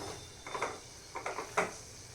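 Ground masala being stirred into methi in a pan, three soft scraping clinks of a spoon against the metal, faint and close over a quiet hum.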